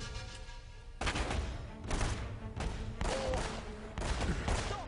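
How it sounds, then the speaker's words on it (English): Magnum gunfire in the video game Uncharted, with several heavy, booming shots spaced about a second apart, each a loud broadband blast with a short trailing echo. "Oh, that's a magnum."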